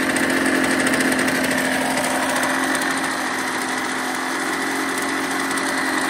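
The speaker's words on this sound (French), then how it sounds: "Donc là on est moteur en route. Elle fait un bruit vraiment discret." A Yamaha TDR motorcycle idles close by with a beautiful expansion-chamber exhaust, a steady, fairly quiet, rapid buzzing beat that stays even throughout, with no talk.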